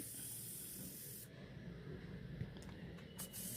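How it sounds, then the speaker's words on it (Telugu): Loud, steady hiss of steam venting under pressure from a pressure cooker cooking drumstick curry, for about a second, then easing into a softer, uneven rushing. "ఇప్పుడు చివరిగా ఎయిర్ మొత్తం తీసేయాలి"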